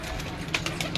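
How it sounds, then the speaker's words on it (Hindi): Kasuri jaldar pigeons coo on a rooftop in Kasur, with a few soft throaty calls rising over a low, steady outdoor background. "मुझे तो माशाल्लाह ये कबूतर बड़े अच्छे लगे हैं"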